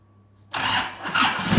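A car engine cranks, catches and settles into a steady mid-pitched run after a timing belt repair, starting abruptly out of near silence and staying loud and close, with slight unevenness toward the end.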